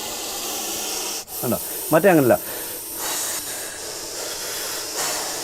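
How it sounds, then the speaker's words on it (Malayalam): A Russell's viper that fell into a well gives a long, steady, breathy hiss that runs the whole time at a moderate level, while someone speaks briefly partway through. "എങ്ങാനും ഇങ്ങനെ സൗണ്ട് കേൾക്കുന്നതിന് അപ്പോഴും വിചാരിച്ചോളൂ ഇത് അണലിയാണ്, ചേനത്തണ്ടനാണ്."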